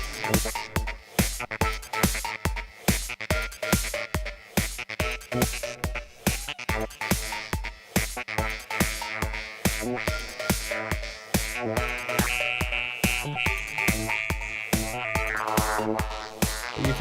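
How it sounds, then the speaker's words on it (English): Blipblox After Dark synthesizer playing wavetable patches in a steady rhythmic sequence, dense pulsing tones with a sweeping pitch glide near the end, loud and continuous with no talking. "we're playing with some of the wavetables on the After Dark"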